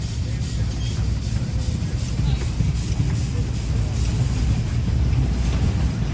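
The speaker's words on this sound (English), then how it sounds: "here we have another early engine coming down the track here" An early 1892 Case steam traction engine, a 12 horsepower single-cylinder machine, rolls along a track at an outdoor show, a steady low rumble and chuff blended with wind noise on the microphone.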